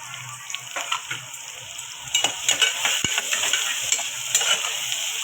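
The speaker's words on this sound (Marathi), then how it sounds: "कांदा चांगला आपला मस्त असा फ्राय झाला पाहिजे" Finely chopped onion fries in a pan for a bottle gourd vegetable dish, a close sizzle broken by quick scraping stirs and spoon taps that grow busier and louder partway through; no speech.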